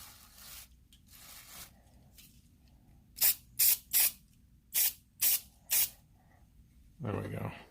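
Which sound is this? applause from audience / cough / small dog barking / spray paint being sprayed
spray paint being sprayed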